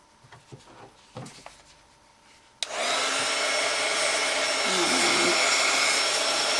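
Faint handling noises and a few knocks, then a hair dryer switches on abruptly and runs with a loud, steady whooshing roar to the end.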